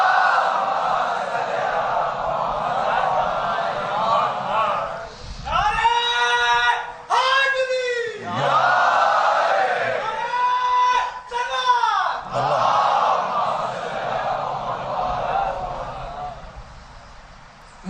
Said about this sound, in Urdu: صلوات پڑھ دیے بآواز بلند